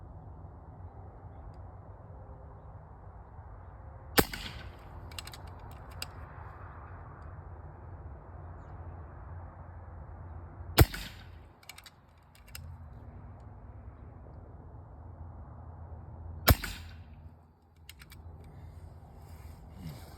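FX Panthera air rifle fires three shots at a target 28 yards away, each a sharp, close crack spaced several seconds apart, followed by brief mechanical clicks of the action over a low background hum.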